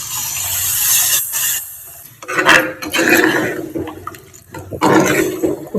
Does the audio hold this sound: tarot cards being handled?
no